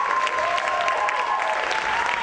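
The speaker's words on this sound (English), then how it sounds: "Please give him a warm round of applause." An audience at a Roland V-Drum clinic gives a warm, steady round of applause for a performer being welcomed to the stage, dense clapping throughout with a faint crowd murmur.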